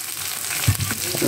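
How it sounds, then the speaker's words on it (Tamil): Vegetables sizzle and crackle steadily in a hot pan, with a faint stirring scrape partway through. "தண்ணி தெளிச்சுட்டு இது அப்படியே வதங்கட்டும்"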